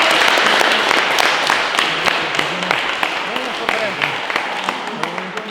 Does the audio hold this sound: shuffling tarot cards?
no